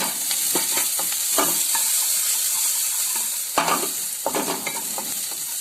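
Sliced onion sautéing with ginger and garlic in a hot pan, a steady close sizzle with repeated scraping stir strokes of a spatula throughout, no voices.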